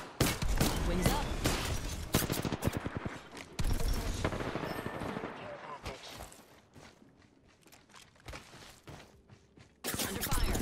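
Apex Legends gunfire, rapid bursts of shots and footsteps up close, with quieter stretches between volleys and a loud burst returning at the end.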